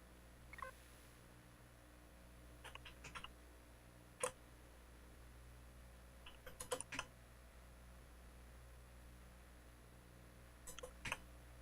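Someone types on a computer keyboard, producing sparse, faint key clicks in small irregular clusters over a quiet, steady background hum.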